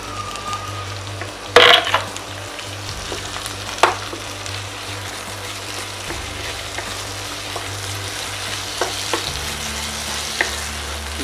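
Two medium tomatoes sauté in a pan for a brinjal curry, with a steady sizzle, repeated scraping stirs and an occasional sharp clatter of a spoon against metal, heard close up with no talking.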